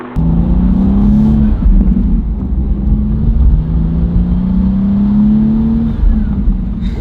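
BMW G87 M2 with BMS intakes revving in steady sweeps, the engine note rising and falling in several long climbs, close and loud throughout with no talking.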